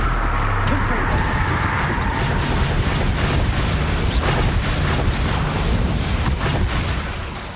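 The Confringo fire spell in Hogwarts Legacy bursts in loud, rolling explosive booms and a crackling rumble that carry on throughout, with voices talking over the blasts.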